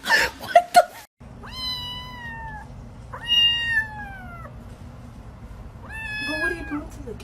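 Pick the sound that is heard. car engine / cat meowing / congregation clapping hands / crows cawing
cat meowing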